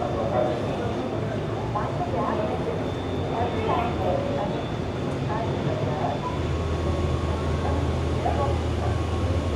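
A double-decker train runs through Paris with a dense, continuous rumble and rattle from the carriage, heard from on board, with faint voices in the background.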